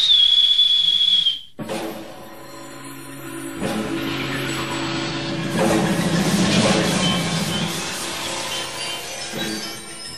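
A shrill, sustained whistle from a jester at a masked party in a German radio drama, sharp and steady for over a second, then cut off as a low droning hum and murmuring take over.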